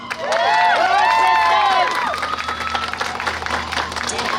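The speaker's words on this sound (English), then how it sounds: "Let's give them a round of applause, please." Audience applause and some cheering at a campaign event to end life without parole, crowd noise rising under a loud, bright burst of pitched sound, then settling into steadier clapping and murmur.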